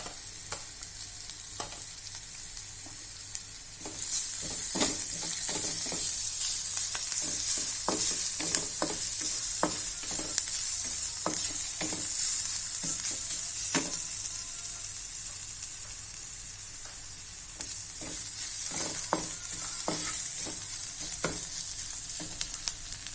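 Crushed ginger and garlic sizzle as they fry in a pan, a steady hiss broken by repeated stirring scrapes and clicks, growing louder after a quieter opening.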